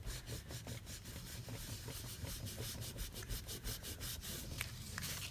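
A clean dry cloth polishes embossed butterflies, making quick, even back-and-forth rubbing strokes, close and soft, with no voices.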